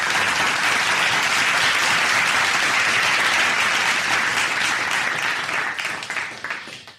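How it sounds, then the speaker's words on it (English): A crowd's applause, loud, dense and sustained, gives another round of clapping to a group before tapering off in the final second. "So let's give them all another round of applause here."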